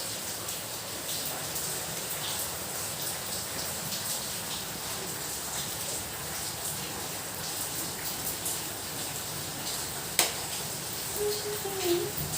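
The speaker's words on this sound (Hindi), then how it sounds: "बारिश बारिश बारिश।" Steady rain patters on a surface in a home, a continuous even hiss with a few brief sharper knocks and a faint voice near the end.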